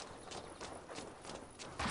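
Horse hooves clip-clopping in Assassin's Creed Valhalla, a steady walking rhythm of hoofbeats on the ground, quiet and fairly close, with no talking over them.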